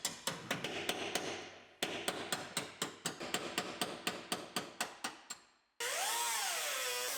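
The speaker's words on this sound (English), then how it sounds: "We can drill this C-pillar out." Rapid, evenly spaced metallic knocks from a power tool drilling out spot welds on the sheet-metal C-pillar of a 2018 GMC Sierra, then a steady whining drill whose pitch wavers up and down.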